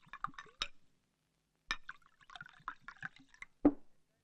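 Soda being poured into a glass, a few quiet bursts of splashing and fizzing liquid with small clinks, separated by a pause, ending in a sharper splash.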